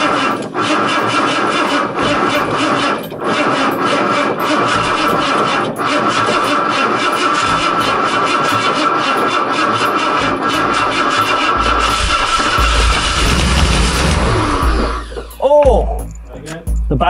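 A classic Ford engine on a weak battery cranks at length with a loud, steady churning drone, then rumbles low as it catches near the end, with people talking over it.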